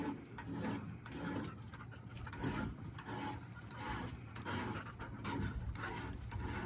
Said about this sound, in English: So I got flat files, or if you got a grinder